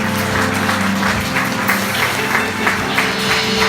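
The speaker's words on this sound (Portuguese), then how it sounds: "Você pode aplaudir o Senhor" Congregation clapping together during a church service, a steady wash of applause that holds evenly throughout over a low background hum.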